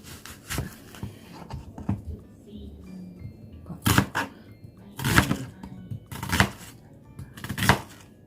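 Kitchen knife slicing an onion on a cutting board while making Japanese curry rice: a handful of crisp, hard thuds spaced irregularly, closer together toward the end, loud and near, with quiet sounds in between.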